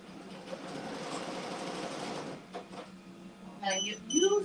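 An embroidery machine starts stitching a shirt, giving a steady, close whirring hum for about two seconds before it stops and people begin talking over faint room noise.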